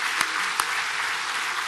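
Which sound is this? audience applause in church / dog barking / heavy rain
audience applause in church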